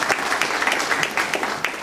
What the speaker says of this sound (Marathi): एकदा त्यांच्यासाठी जोरदार टाळ्या.